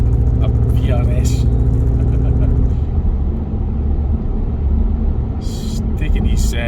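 A petrol Skoda Octavia vRS mk3 cruises along Scottish country roads, its steady, close engine rumble and road noise filling the cabin continuously.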